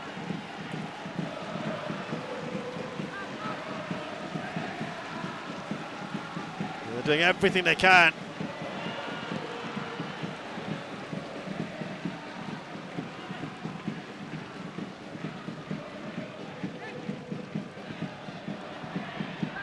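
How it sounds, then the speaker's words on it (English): Football fans in a packed Jalan Besar Stadium keep up a steady, dense roar of crowd noise through the whole stretch, with commentary running over it and a brief louder burst partway through. "you hear the crowd, they're just feeding off this now as it ticks closer to 90"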